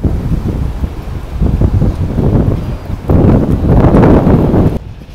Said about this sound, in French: le vent, il veut pas me laisser faire l'outro